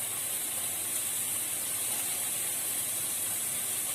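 Prawns sizzle in a hot pan over a high flame while pad thai is cooked, a steady, close hiss with no gaps and no talking.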